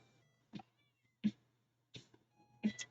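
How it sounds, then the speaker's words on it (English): A domestic cat meows for attention indoors, giving four short, fairly faint calls spaced evenly apart over a low steady hum. "my cat's being like needy"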